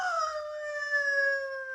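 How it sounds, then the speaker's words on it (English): A three-quarter Irish setter lets out a single long, clear howl, steady and slightly falling in pitch, close and alone with no other sound. "Jacko, the three-quarter Irish setter"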